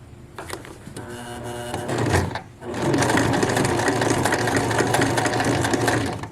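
A sewing machine runs through the thick waistband of a pair of pants, starting and stopping briefly, then settling into a loud, steady close-up stitching whir.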